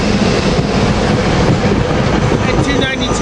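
Silver Liner IV rail cars 390, 364, 365 and 292 departing, a loud near rumble of train wheels on track, with a heavy low roar and faint clatter throughout.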